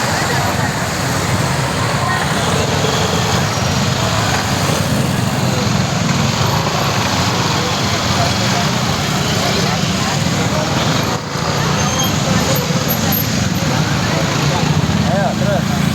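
Dense, steady roadway rumble of engines idling in a weekend-morning traffic jam near a village market, a continuous low drone close by with people talking over it.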